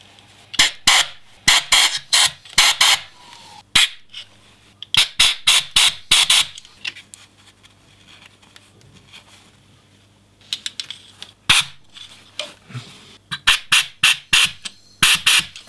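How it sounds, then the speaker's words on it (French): A compressed-air blow gun with a rag held over it, blowing off old WD-40: loud, close, hissing bursts in rapid repeated pulses, broken by a quiet pause before the bursts resume. "je vais utiliser ma soufflette avec l'air comprimé"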